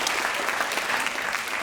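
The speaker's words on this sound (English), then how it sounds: "There, you get clap for that." An audience at a comedy show breaks into a short burst of applause, dense clapping that holds steady for a moment.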